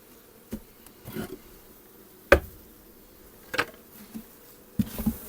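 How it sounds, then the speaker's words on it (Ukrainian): Honeybees in a hive during package expansion, heard as a faint, steady hum beneath several sharp knocks and clunks from handling the wooden frames. "Бачите, як тут багато бджоли."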